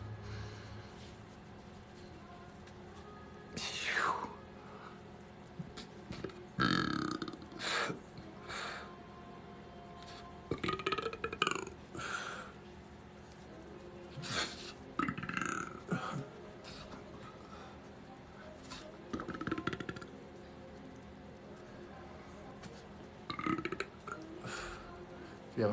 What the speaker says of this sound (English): I release energy oftentimes through burping or yawning